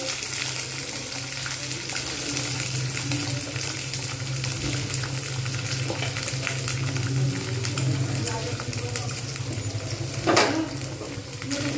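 Green beans frying in oil in a pan over lowered heat while being stirred, a steady hiss with scraping strokes and one sharper clatter near the end.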